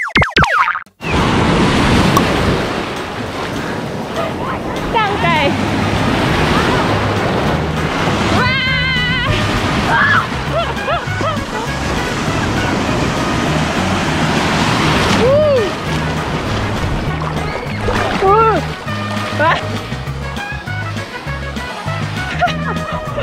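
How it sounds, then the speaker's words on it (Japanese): Big ocean waves break and surge at a beach on an overcast, rainy-weather day, a loud continuous roar of surf with wind buffeting the microphone and people talking and shouting over it. "めっちゃでっかい波越えないと沖に出れない。"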